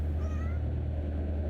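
A cat in the video game Kentucky Route Zero gives a single short meow, faint and high over a steady low ambient hum.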